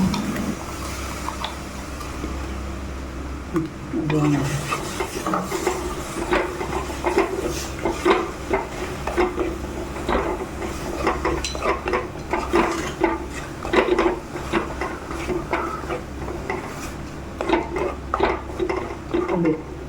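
Onion paste is stirred in a cooking pot for a fish curry, with repeated scraping and clinking of a spoon against the metal over a low steady kitchen hum, close and fairly loud throughout.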